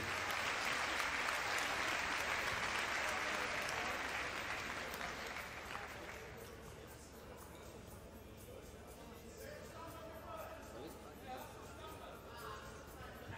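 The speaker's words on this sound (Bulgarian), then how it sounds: "Нека силни аплодисменти за тези бойци." A crowd at a kickboxing event applauds the fighters after the bout, loud, dense clapping that gradually thins and fades into scattered claps and murmuring chatter.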